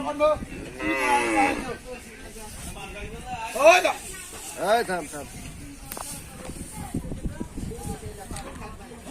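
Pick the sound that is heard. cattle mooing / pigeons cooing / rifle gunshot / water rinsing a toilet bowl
cattle mooing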